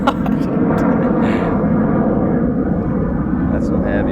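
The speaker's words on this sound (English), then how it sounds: "That's some heavy ones. You can't escape the planes." Loud, continuous roar of heavy airplanes passing overhead, a broad low rumble that holds steady throughout with no pauses, with faint voices under it.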